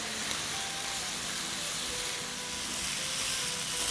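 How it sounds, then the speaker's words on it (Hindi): Mutton mince frying with turmeric, black pepper and other spices in oil in a pan, giving a steady close sizzle and hiss throughout with no voices. "देखिए 2 मिनट हमने मसालों के साथ भी भून लिया है और ऊपर तेल आ गया है।"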